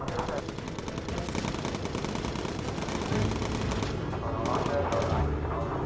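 A tail gunner's machine gun fires in the Bomber Crew video game, rapid bursts of repeated shots rattling almost continuously over a steady engine drone, with some speech faintly mixed in.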